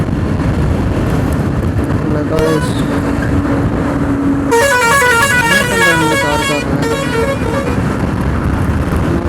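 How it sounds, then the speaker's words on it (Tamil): A vehicle horn honks repeatedly on a highway near Thirupur during a motorcycle ride, with rapid toots and a sustained blare over steady wind and engine rumble, alongside another vehicle's lower horn tone. "ஹாரன் அடிக்கிறது"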